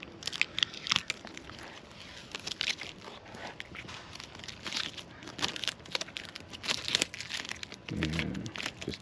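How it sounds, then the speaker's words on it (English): Tape is peeled off the heated wiper bed cords of a 2022 Tesla Model Y, making close crinkling and tearing sounds in irregular bursts with small crackles and handling noises. "Take our tape off of our heated wiper bed cords."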